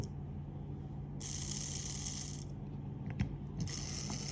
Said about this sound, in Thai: หมุนมอเตอร์แล้ว